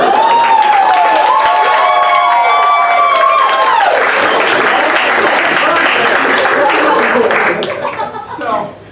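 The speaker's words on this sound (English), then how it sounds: "Please do not hold your applause" An audience at a stage show gives loud sustained applause mixed with cheering, whistles and some laughter, fading toward the end.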